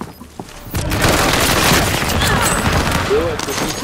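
Rapid automatic gunfire and booming shots from the Call of Duty Warzone video game crackle in dense bursts, with voices speaking over the shooting.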